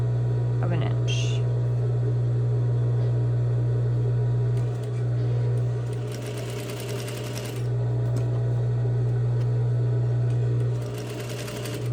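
A sewing machine stitches down the base of a patch pocket at a quarter-inch seam, its motor running as a loud steady hum with rhythmic needle chatter. The run pauses briefly midway and then resumes.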